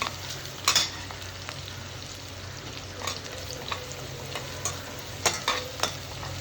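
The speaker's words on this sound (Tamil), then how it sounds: "இஞ்சி பூண்டு பேஸ்ட் போட்ட வாட்டி அதை நல்லா கலந்து கொடுப்போம்" Ginger garlic paste fries in a pot of kuska while a spoon stirs it through. A soft continuous sizzle is punctuated by several distinct scraping strokes against the pot, and no one speaks.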